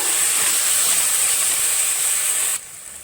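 Tomatoes sautéing with mint and coriander in a pot for tomato rice give a loud, steady hiss that drops off abruptly near the end.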